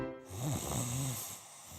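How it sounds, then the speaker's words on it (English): A person snores loudly and close by, with one drawn-out, rasping inhale snore that fades into quieter breathing. "there are many problems that can keep you up at night, like snoring"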